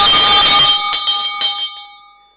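A bell sounding during a morning devotion broadcast: a loud, bright clang that decays, followed by several lighter strikes at irregular intervals fading away, with no voices.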